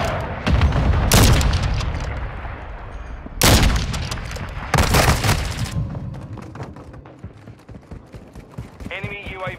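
Loud, close blasts from Call of Duty: Modern Warfare II, several broadband explosions and bursts of gunfire in a game battle, with a short electronic chirp near the end.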